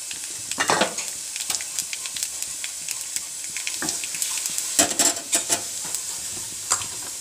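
Black cumin seeds hit hot oil for aloo posto and sizzle close by, with sharp clatters and scrapes of a spoon against the pan scattered through the steady frying hiss.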